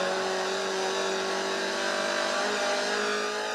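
Touring cars race at Killarney in 1998, a sustained loud engine drone with a steady high-revving tone and a slight swell toward the end, no voices over it.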